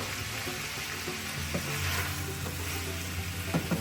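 Meat for pepper steak sizzling in a hot pan over medium-high heat, a steady crackling fry with a few scrapes and clinks of a utensil stirring, close up and without voices.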